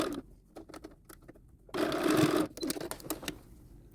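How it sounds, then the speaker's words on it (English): A sewing machine stitches the small sleeve hems of a lined doll coat made from McCall's 7301, running in short rapid bursts and then one longer, louder run before a few more brief bursts. "So first, we'll sew up our little hems on the sleeve"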